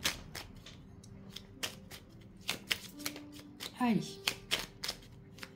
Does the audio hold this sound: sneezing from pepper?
no